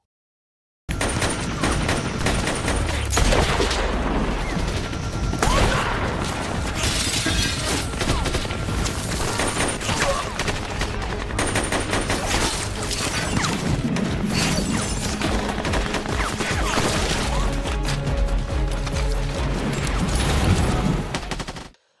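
A war-film firefight with enemy troops, sustained bursts of automatic gunfire, shots and crashing impacts forming a dense, loud, continuous barrage for about twenty seconds.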